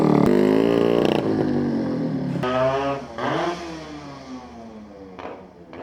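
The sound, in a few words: modified Yamaha RX135 motorcycle engine revving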